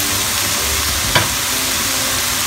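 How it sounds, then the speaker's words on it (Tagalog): Steady hiss and crackle of bitter gourd with egg sizzling and simmering in a hot pan, with a brief clink or stir in the middle. "Kumukulo-kulo na siya."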